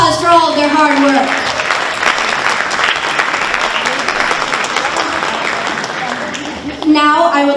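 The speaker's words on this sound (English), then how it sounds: "Let's give them a big round of applause for all of their hard work." Loud, sustained round of applause from a crowd at a community charity event, honoring volunteers, filling the whole stretch with dense, even clapping before a voice returns at the end.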